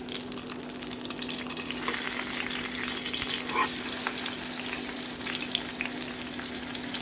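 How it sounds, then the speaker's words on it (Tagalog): Fish frying in hot oil in a pan until crispy, a steady close sizzle and crackle that swells louder after a couple of seconds and continues with scattered pops. "Fry the fish until it's crispy."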